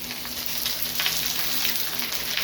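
A wagyu flat iron steak sears in a smoking-hot oiled pan, giving a steady, loud, close sizzle with a dense crackle that holds for the whole stretch without breaks.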